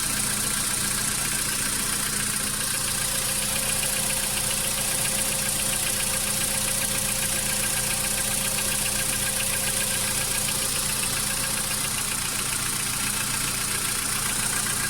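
A Volkswagen Jetta engine idles steadily after an engine wash, a continuous even hum with a faint background hiss, close by and without talk throughout.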